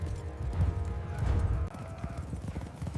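Several horses move across open ground, hooves clopping in a dense, uneven rhythm that is close and fairly loud, with a faint whinny in the mix and no talk.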